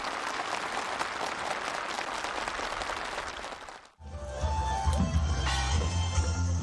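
Enthusiastic applause fills a housing move-in ceremony for farm workers in a village, dense clapping that briefly drops out and then resumes loud with mixed crowd noise.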